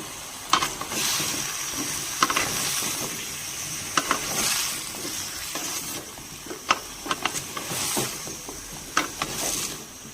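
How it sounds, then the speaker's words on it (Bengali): Pumpkin, Malabar spinach and potato sautéed with spices and salt in a pan for a Bengali prawn dish, a soft steady sizzle broken by repeated sharp spatula clinks and scrapes. "এবার সবজিটাকে মশলার সাথে ভালো করে কষিয়ে নিব"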